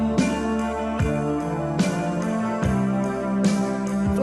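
A 1983 song plays on its own, with guitar and steady sustained chords, regular strong beats and bright attacks recurring about every second.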